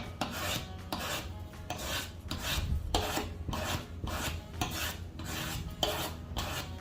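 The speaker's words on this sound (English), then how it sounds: "I'm gonna sharpen his knife just a little bit. I'm gonna touch it up." A knife being touched up on a diamond sharpener, with close, steady rasping strokes repeating in an even back-and-forth rhythm and no talking.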